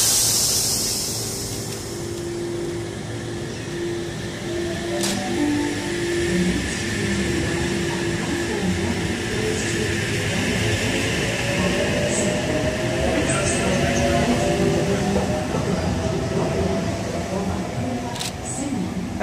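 A Sydney train departs Allawah station with a low rumbling roll and rising motor whine, wheels clicking over rails, with faint voices in the background.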